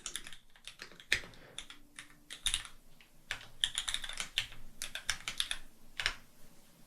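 Rapid, uneven clicking of keys on a computer keyboard while coding in Xcode, close and moderately loud, with short pauses between bursts of typing.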